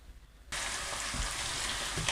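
Onions start sizzling in a hot pan with a sudden hiss, frying steadily and fairly quietly while being cooked toward golden for beef keema karahi.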